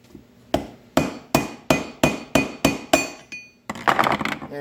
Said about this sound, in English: Now we're going to knock the old seal out.